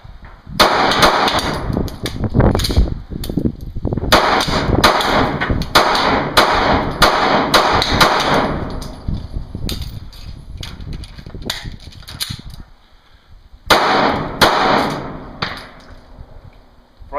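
A SCCY CPX-2 pistol fires loud, sharp shots in rapid strings, some clustered into fast bursts, separated by brief pauses, close by and dominant throughout.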